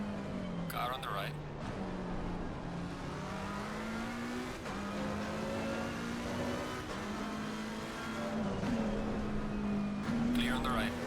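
A race car engine in a racing video game at Kyalami holds a steady, droning pitch throughout, with brief chatter from another car alongside to the right. A voice talks over it.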